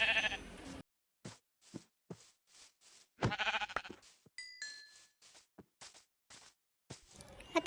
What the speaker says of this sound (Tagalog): At ito na nga, may nakita akong sheep.